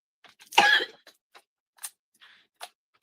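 A single short cough, fairly close, followed by a few faint clicks and small scattered noises in an otherwise quiet room.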